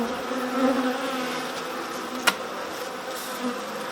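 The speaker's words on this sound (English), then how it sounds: "there's a lot of bees up in these supers, a lot of bees in the brood box" Honey bees swarm and drone steadily around an opened hive with supers and brood box, a dense, close, continuous buzz with one sharp knock midway and no talking.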